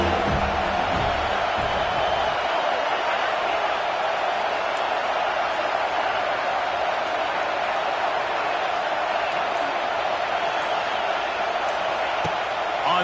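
Home crowd at a football game roaring in a loud, sustained wash of cheering and noise that fills a large stadium, steady throughout with occasional louder swells.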